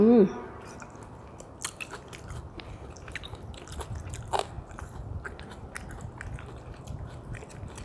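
Someone eating nam tok noodle soup topped with plenty of fried garlic, with close, sharp crunchy bites and chewing over a steady low background.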